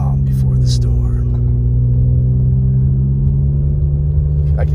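A car drives steadily through snowy mountain-town streets in Big Bear, with a constant low engine and road rumble throughout and a voice talking over it.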